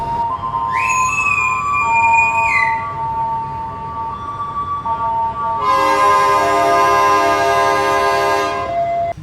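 Sribilah passenger train departing Kisaran station, with loud sustained multi-tone horn blasts, a shorter high toot early on and a long blaring horn later, over steady rail rumble close by.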